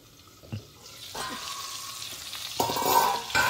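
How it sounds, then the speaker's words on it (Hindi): Chicken frying in a covered pan, a soft sizzle that grows louder and brighter partway through with a few clinks from the lid or utensils, close and fairly quiet, no talking. "ये जब तक पूरी तरह से कुक ना हो जाए तब तक हम इसको ऐसे ही फ्राई करेंगे।"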